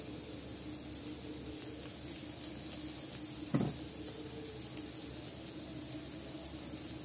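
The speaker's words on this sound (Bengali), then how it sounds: "তো আমার উচ্ছেটাও ভাজা হয়ে গেছে আমি মাঝখানে একটু তেল দেবো" Oil sizzling in a pan after bitter gourd has been fried, a faint steady hiss with one brief clatter midway, no talking.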